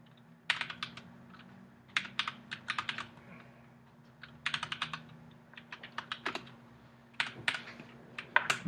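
Bursts of rapid clicky keystrokes on a computer keyboard while code is typed, coming in irregular clusters with short pauses between them, close and fairly quiet over a low steady hum, with no voices.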